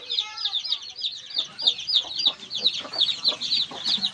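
Several hens cluck close by in a rapid, regular series of short pulsed calls, with faint background farm noise beneath.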